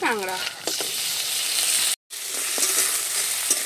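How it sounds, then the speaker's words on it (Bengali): Crabs fry in oil with a masala of ginger, garlic and onion, giving a loud continuous sizzle with a few scrapes of stirring and a brief cut in the middle. "আদা রসুন পেঁয়াজটাকে একটু ভেজে নিয়েছি, এবারে দিয়ে দিচ্ছি"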